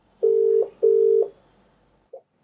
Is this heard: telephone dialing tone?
yes